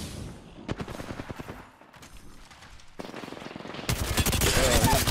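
Bursts of automatic gunfire in Apex Legends on PS5, a squad under fire in Capital City, rattling in rapid volleys that grow louder and denser toward the end, with scattered game noise between.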